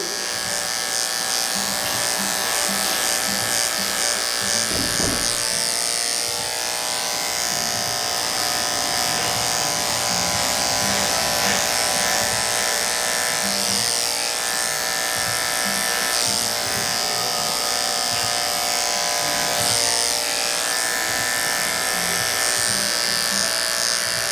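Detachable-blade electric hair clippers fitted with a number 2 blade buzz continuously and loudly at close range during a skin fade haircut, the steady motor tone shifting slightly as the blade moves through hair.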